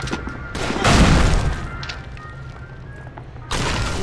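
A grenade explosion in the PS3 version of Call of Duty 3 erupts as a loud broadband boom around one second, its rumbling tail fading out before another burst of blast noise hits near the end.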